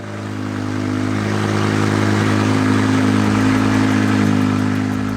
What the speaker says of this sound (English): Yeah, the M5 actually turning on, that is some very, very good news.